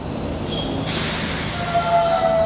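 A subway train runs through a station, a loud steady rumble with high squealing wheel tones that shift partway through.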